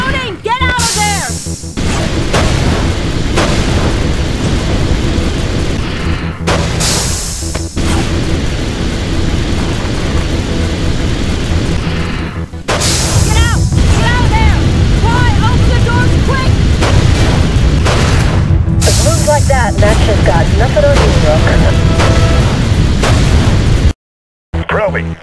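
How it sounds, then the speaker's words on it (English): Explosions in the Real Heroes Firefighter video game at a burning high rise: loud, repeated booming blasts and crackling bursts over a continuous roaring rumble, close and dense, with brief voices and a sudden cut near the end. "It's exploding!"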